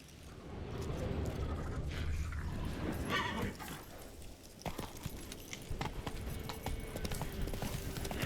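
Roach the horse gallops in The Witcher 3, steady hoof clip-clop under dense game music and ambience, loud and close throughout with a few sharper impacts in the second half.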